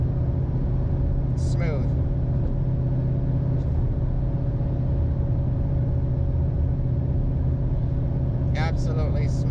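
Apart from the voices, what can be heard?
car engine cruising in 6th gear, Tremec Magnum XL transmission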